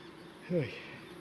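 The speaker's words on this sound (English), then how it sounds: "So, lots and lots of bees. It's a darn big hive." A brief, close buzz of a honeybee passing by a large hive over a quiet background, rising and fading within a moment.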